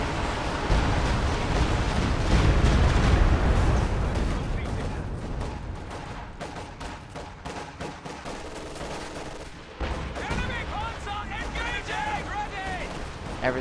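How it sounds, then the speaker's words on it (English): Heavy wartime game combat with a Stuka dive bomber: dense rumbling explosions and rapid gunfire fill the mix continuously, loudest early on, with a commentator's voice running over much of it. "that's Stuka dive bomb"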